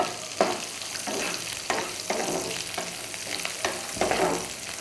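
Onions go into hot oil with cumin, cinnamon and cloves, giving a close, continuous sizzle and frying crackle, with stirring scrapes recurring about every second.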